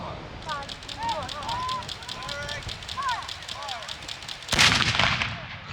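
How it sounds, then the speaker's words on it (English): A historical cannon fires at a military show with a single loud, booming blast that rings out after a stretch of faint outdoor background, including bird chirps. "Number 1 gun fire."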